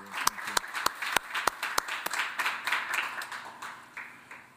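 A small audience at a Patrick Henry College interview claps for Brian Lamb, starting with a few sharp, separate claps and quickly building into brief, moderate applause.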